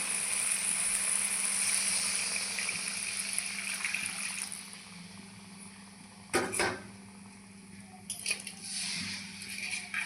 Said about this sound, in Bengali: এখন আমি জলের জল দিয়ে দিচ্ছি